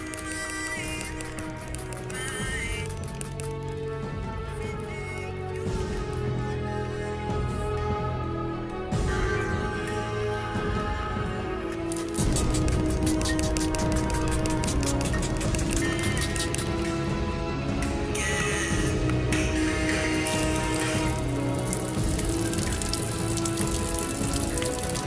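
Water splashes and pours steadily over a Realme U1 smartphone during a water test, a continuous spattering wash that grows a little louder partway through, with no voices.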